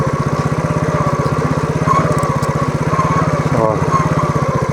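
A moped engine puttering in first gear along a forest track, a close, steady, rapid chugging beat with a slight fluctuation in pitch as it rides.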